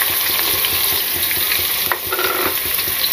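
Whole spices, cumin and garam masala sizzle in hot oil while yakhni biryani is being cooked. A steady, close frying hiss runs throughout, with light crackles and stirring scrapes and no talking.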